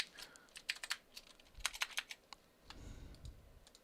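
A computer keyboard clatters with quick, uneven bursts of key presses, clustered taps separated by short pauses, faint and close with a low background rumble and no speech.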